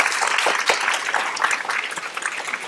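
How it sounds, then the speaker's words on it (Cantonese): An audience at a university drama society's theatre night applauds the playwright, a brief burst of steady, close clapping from many hands filling the hall without talk. "咁希望大家都可以俾掌聲佢"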